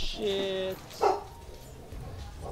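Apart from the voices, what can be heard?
dog barking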